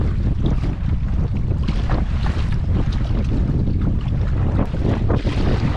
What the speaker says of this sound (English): I'm paddling into some decent waves here. Nothing too crazy, but the wind keeps kicking up every now and then.